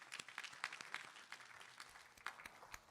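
Scattered applause from a conference audience at a tech event, thin and fairly distant, a modest number of separate hand claps rather than a dense roar, quiet and brief.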